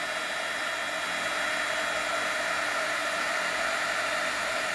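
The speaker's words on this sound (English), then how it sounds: "So I'm just applying heat to make the embossing powder melt" Steady, loud blowing roar of a heat tool melting embossing powder, a continuous broadband whoosh held at constant strength throughout with no pauses and no voices.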